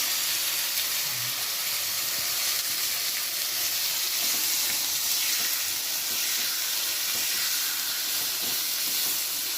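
Steady loud sizzling hiss of ridge gourd and tomato chutney frying in a pan, continuous and unbroken throughout.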